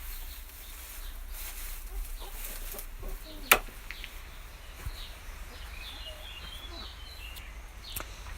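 Chickens on a farm cluck quietly in the background, a few soft scattered calls amid low ambient outdoor noise, with a sharp brief knock near the middle and a faint voice talking.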